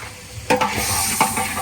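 Onion, ginger and garlic frying in pure mustard oil, a steady close sizzle with two sharp bursts of stirring scrapes in the pan.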